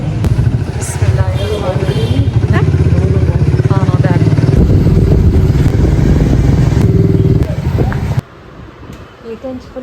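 A motorcycle engine runs nearby outdoors on a hot day, a rough throbbing drone with clatter and some revving. Voices talk over it until it cuts out near the end, leaving quieter street background.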